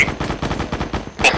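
Automatic support fire in a military video game: a fast, evenly spaced string of loud gunshots, a steady machine-gun rhythm, then a sharper, brighter burst near the end.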